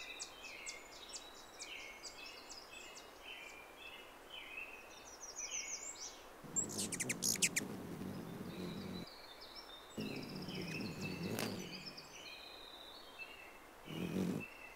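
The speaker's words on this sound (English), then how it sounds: "ruby-throated hummingbirds take turns to drink nectar at my window" Ruby-throated hummingbirds visit a window feeder, with faint high chirps and twittering calls, a few brief whirring bursts of wings close by, and a quiet outdoor background.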